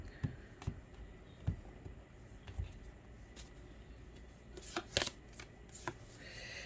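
Tarot cards are shuffled by hand in soft riffles and sharp taps, several distinct bursts spread out and closer together near the end, quiet and close.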